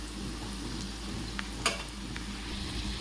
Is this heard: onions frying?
yes